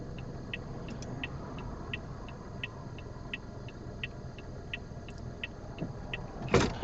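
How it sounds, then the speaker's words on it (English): A car passes along a 60 km/h Toronto road, a steady mid-distance engine and tire rumble with a faint repeating ticking throughout and a louder swell at the very end. "one car is coming, let's wait for that car."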